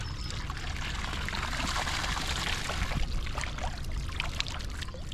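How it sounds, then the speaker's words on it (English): Water pours and splashes steadily over a hat being soaked to keep cool during a beach kayaking outing, a continuous broadband gush with close dribbling spatters and no talk. "You can just get this hat soaked in water."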